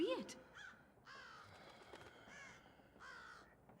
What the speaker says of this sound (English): Shut up, you stupid bird.